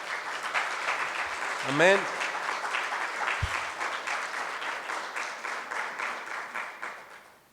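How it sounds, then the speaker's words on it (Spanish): A church congregation applauds during a sermon, steady clapping from many hands filling the room, with a brief spoken interjection and a voice rising in pitch near the start before the clapping carries on and slowly fades. "Dele una ofrenda de palmas al Señor nuestro Dios."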